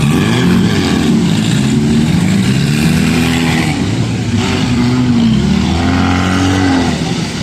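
A bus engine roars loudly and steadily at a scrapyard-style car rally in eastern Estonia, with the drone rising and falling in pitch as it revs, continuous and close throughout.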